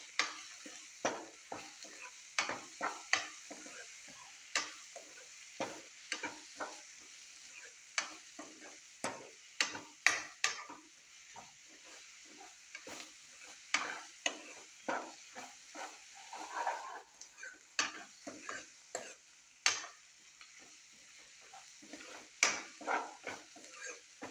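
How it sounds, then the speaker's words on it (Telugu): A spoon stirs chicken curry with turmeric in a frying pan, making irregular scraping and clattering strokes over a soft, steady sizzle of oil. No one speaks. "పసుపు వేసేసి కలుపుకుందాం ఒకసారి."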